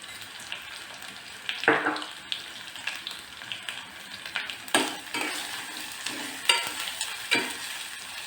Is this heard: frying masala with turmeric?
yes